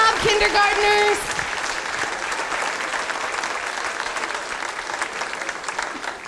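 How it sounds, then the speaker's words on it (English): At a kindergarten music show, the audience applauds loudly and steadily for the young performers. A voice is heard briefly at the start, then the clapping carries on alone without letting up. "Everyone, one more round of applause for all of the hard work that they did this year."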